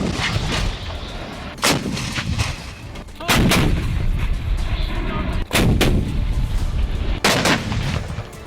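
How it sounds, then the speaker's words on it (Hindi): Heavy artillery shells fall in the Armenia–Azerbaijan fighting over Karabakh: repeated loud, booming blasts, each trailing off into a long rolling rumble, come one after another with no talking. "इसी तरह तोपों के जोर से मध्य एशिया के दो मुल्क एक दूसरे पर बारूद बरसा रहे हैं।"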